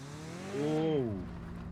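Engine of a Konig car in Mon Bazou revving up and down as the car slides along a road, a rising then falling engine tone with tire and road noise.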